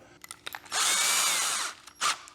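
A power drill drills with oil lubricant, whirring in a couple of short blips, then running at a steady high whine for about a second before one final quick burst.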